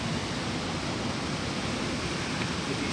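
A small brook flows nearby, making a steady, dense rush of water with no pauses or voices.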